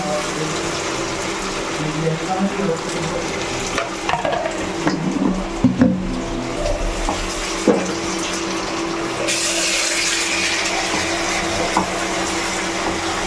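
Spices fry in oil in a pan with a continuous sizzle, broken by scraping stirs and clinks of a utensil, and a brighter hiss toward the end.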